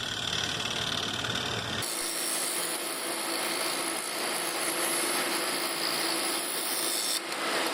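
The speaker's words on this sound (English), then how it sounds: "Here I'm using a homemade negative rake scraper that I made from an old skew." A homemade negative rake scraper cuts a large spalted ash bowl on a lathe, a continuous scraping, rubbing whir against spinning wood, with a steady motor hum underneath throughout.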